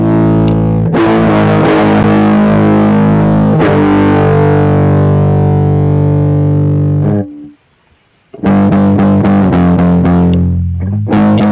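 Electric guitar run through an amp simulator with an impulse response, heavily distorted and loud, playing sustained chords that ring out, a brief near-silent gap, then choppy palm-muted riffing.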